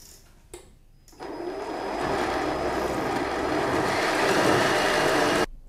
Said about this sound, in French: Les petits pois sont cuits, on va pouvoir les mixer.